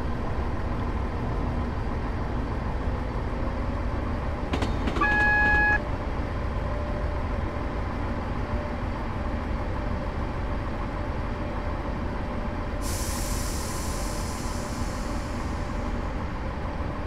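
A train braking while approaching Haymarket station in Train Simulator 2015, on the Glasgow Queen Street to Edinburgh route: a steady running rumble carries a brief cluster of tonal squeals partway through, then a sustained airy hiss rises late and fades.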